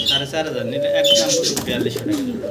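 Pigeons coo in low, rolling, throaty phrases close by, with a few higher chirps and rustles mixed in.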